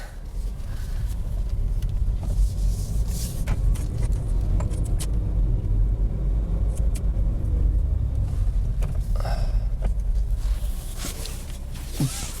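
A Mini F56 Cooper S on a hot-day test drive, its engine and road noise a steady low rumble heard from inside the cabin, with occasional faint clicks and no talk.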